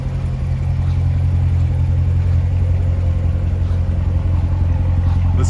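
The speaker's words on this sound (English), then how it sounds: "Listen to that rumble with that MPP performance exhaust" A deep, steady exhaust rumble from an idling 2017 Corvette Grand Sport with an MPP performance exhaust, close and loud, throbbing evenly throughout with no voices.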